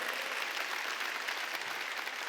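Church congregation applauding during an Easter Sunday service, a dense, steady wash of many hands clapping at once, sustained and fairly loud throughout with no voices breaking through.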